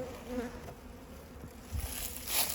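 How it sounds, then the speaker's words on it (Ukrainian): Honeybees crawl busily over frames in an open hive during varroa mite treatment, their soft steady buzzing and humming close and continuous, swelling slightly toward the end, with no talk. "Зараз бджілка активна і вони бігають, бігають по всьому вулику."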